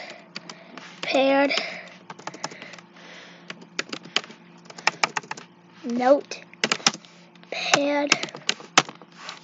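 Typing on a computer keyboard to open Notepad, with quick clusters of sharp key clicks separated by pauses and a few louder keystrokes, close and clear over a low steady hum.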